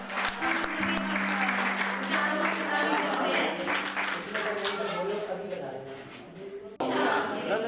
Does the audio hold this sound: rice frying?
no